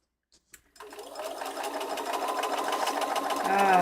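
After a brief silence and a couple of clicks, a sewing machine starts stitching quilt pieces and runs in a steady, fast mechanical whir that builds slightly in speed, close and clear.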